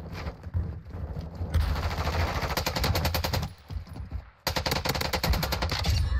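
Rapid, dense gunfire from Basilisk guns in the video game Warzone 2, heard up close and loud in two sustained bursts with a brief pause between them.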